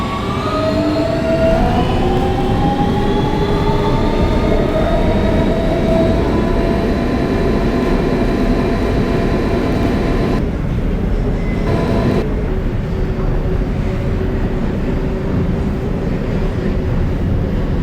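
An R160B Siemens subway train on the W local line runs steadily with a loud continuous rumble and rising motor whine, briefly muffled partway through before the clatter resumes.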